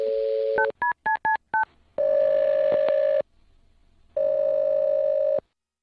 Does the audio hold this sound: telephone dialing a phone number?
yes